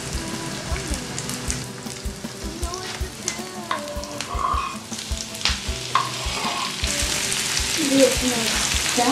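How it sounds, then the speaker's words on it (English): Mushrooms frying with onions in a pan, a steady crackling sizzle with scattered pops and stirring scrapes, close and fairly loud, swelling slightly toward the end without talk. "Some fried onions. And I'm gonna add my beautiful mushrooms to that."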